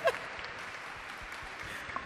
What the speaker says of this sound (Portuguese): Salva de palmas para a Flávia